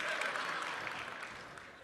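Audience at a SXSW panel claps in a dense burst of applause that fades gradually over a couple of seconds, loud and close.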